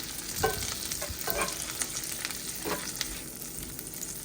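Meatballs seasoned with seasoned salt fry in a pan with onions and mushrooms, giving a close, continuous sizzle broken by several utensil stirs and scrapes.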